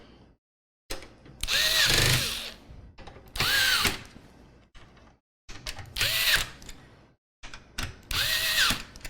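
A power drill drives screws into a PC case during a build, four separate whirring bursts of a second or so each, with the motor pitch rising and falling, separated by short quiet gaps.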